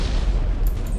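Warship guns fire in Ultimate Admiral: Dreadnoughts: a dense, loud, low booming rumble of naval artillery lasting about a second, with a brief hiss near the end.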